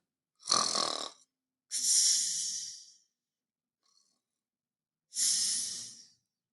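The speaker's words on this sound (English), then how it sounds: "But Frienze let out a loud snore and pretended to be asleep." Three loud, rasping snores, each a drawn-out breath separated by silent pauses, close and isolated.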